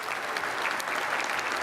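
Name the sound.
audience applause for keynote speaker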